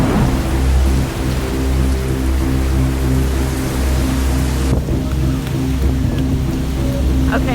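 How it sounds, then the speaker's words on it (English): Heavy rain pours steadily and loudly on the ground and trees in Chattanooga, with deep rolling thunder rumbling underneath throughout. "now it's pouring and we got a huge thunder"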